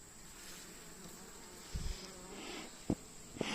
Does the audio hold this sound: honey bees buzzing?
yes